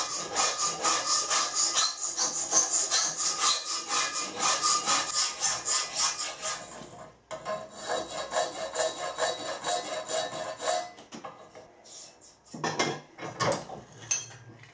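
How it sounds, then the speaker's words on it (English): A bastard file rasps steadily back and forth across a metal lathe carriage lock bolt, close and continuous strokes with short breaks, no talking. "It's called a bastard file."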